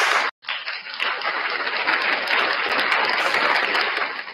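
Steady, dense applause from a crowd, loud and continuous after a brief silent break near the start, with no talking over it.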